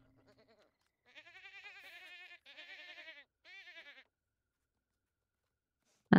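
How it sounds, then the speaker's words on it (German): A sheep bleating in The Sims 4 on a horse ranch: three wavering, nasal bleats in a row, clear and close, with faint low sounds before them and a sudden loud burst at the very end. "Das ist auch ein Schaf."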